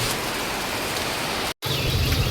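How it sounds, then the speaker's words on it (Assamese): Dense, steady heavy rain hiss in Mirza, Assam, fills the clip, loud and continuous, with a split-second dropout near the end. "ইয়াতে বৰষুণ দি আছে"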